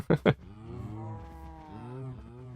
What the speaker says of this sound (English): I'm going to give cakes to... fucking Luck Cow and Wife Cow over here that are deeply in love right now